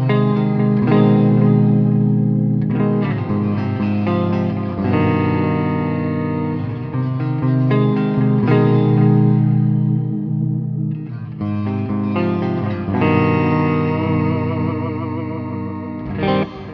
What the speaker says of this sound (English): I like clean tones with shimmer reverbs just because I think you can hear the shimmer a little bit more